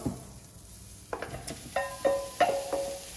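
Bacon lardons hit melting butter in a pan and start to fry, a soft sizzle building beneath a few sharp clinks and scrapes of a utensil stirring, close by and without voices.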